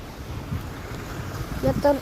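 Strong wind buffets the microphone at an icy seashore, a steady low roar with gusts swelling near the end, where a brief voiced sound breaks through.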